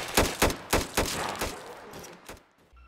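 A Ruger firing in the video game Those Who Remain: about six sharp, loud shots in fairly even succession, each with a short decaying tail, then quiet.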